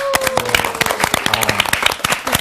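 A Bible study class in a studio setting gives a short round of clapping, with distinct individual claps rattling in a quick irregular patter for a couple of seconds, one or two voices faintly audible beneath.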